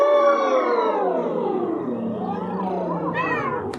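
A human voice imitates a cat's meow in one long, drawn-out wail that slides downward in pitch, then wavers upward briefly, heard alone.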